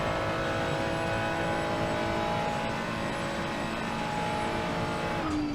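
A 2023 Ferrari 296 GT3 race car powers up through Raidillon, its engine a loud, continuous, tonal roar heard from on board, steady and unbroken with a slight rise near the end.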